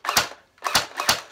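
An airsoft M4 rifle fires three sharp, snappy shots on semi-auto, close by and fairly loud, with short gaps between them and a quick clatter to each shot.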